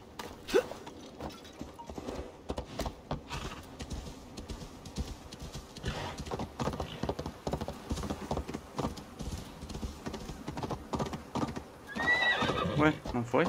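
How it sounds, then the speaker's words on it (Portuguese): A horse in Assassin's Creed Valhalla neighs and trots, with rhythmic clip-clop of hooves running throughout and a loud whinny near the end, while someone talks over it in Portuguese. "Cadê meu cavalo?"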